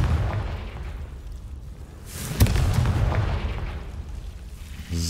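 A Confringo fire spell blast from Hogwarts Legacy: a sharp burst followed by a rumbling, booming explosion that swells and fades, loud and alone with no talk.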